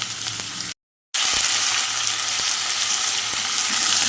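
Beetroot and carrot fry in a pan with a loud, steady hissing sizzle, broken once by a brief gap, with faint occasional clicks and no talk.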